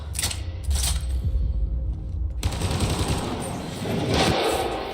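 Continuous rapid gunfire and heavy combat noise from the sci-fi shooter game Mass Effect: Andromeda, dense and loud throughout with a brief dip partway before the barrage resumes.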